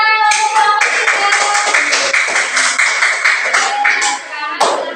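Schoolchildren in a classroom clap together in a dense, steady burst of applause lasting the whole stretch, close and loud, with some chatter mixed in.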